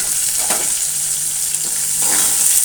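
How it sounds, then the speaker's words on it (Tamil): Curry leaves and chopped onion hit hot oil in a pan, a loud continuous sizzle with a few crackling pops, heard close up and alone. "இப்போ நம்ம கொஞ்சம் கருவேப்பிலை, ஒரு பெரிய வெங்காயம் பொடியாக நறுக்குனது போட்டுடலாம்."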